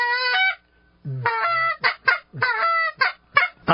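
A person imitates goose honks in a quiet room, giving a series of loud, nasal calls close by, some long and some clipped and short.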